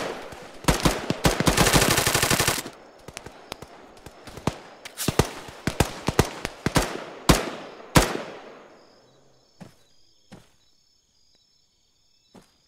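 Video game gunfire from Pulau opens with a fast automatic burst, then breaks into scattered single sharp shots that thin out and trail off into near silence.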